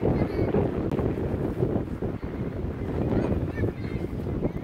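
Strong wind buffets the microphone at an open sports field, a continuous loud rushing and rumbling gust noise throughout.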